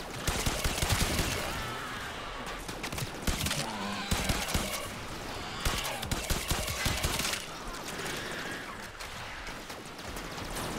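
Rapid, dense weapon gunfire in the video game Warframe, with loud repeated shots in continuous bursts and brief pauses, mixed with game effects.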